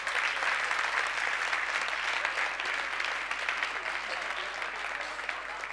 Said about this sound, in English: give him an encouraging applause